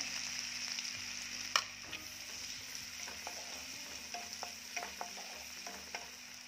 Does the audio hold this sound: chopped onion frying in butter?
yes